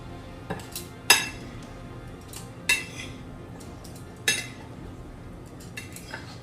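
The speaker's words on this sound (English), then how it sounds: "So this is a tablespoon that I'm using. And so we're putting about 8 tablespoons in there." A metal tablespoon clinks against a container several times at irregular intervals, scooping beans with soft scraping in between, in a quiet room.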